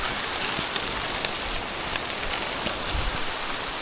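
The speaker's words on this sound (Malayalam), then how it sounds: "കാരണം നല്ല മഴയാണ്" Heavy rain pours down near the Kooveri Kadavu suspension bridge, a dense, steady hiss that fills the whole stretch with no voices over it.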